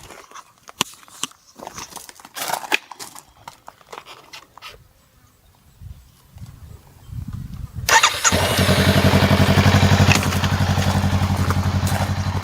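A stock 2020 Honda Rebel 500 motorcycle starts after scattered handling clatter and rustling, its engine catching at once and settling into a loud, steady idle with an even low-pitched throb close by.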